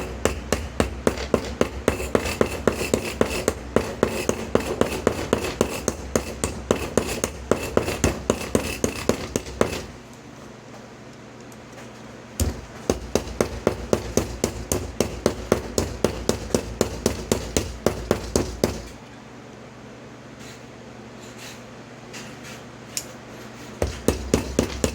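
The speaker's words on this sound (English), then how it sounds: "So I'm just going to hammer away for a second." Rapid, steady metallic hammer blows peen brass fittings on a Viking knife, close and sharp, in two long runs separated by a short quiet pause.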